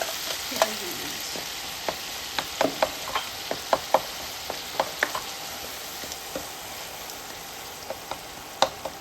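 Cumin, ginger and dry chilli spice paste frying in a pan while being stirred, with a steady sizzle and scattered clicks and scrapes from the spoon throughout, no voices.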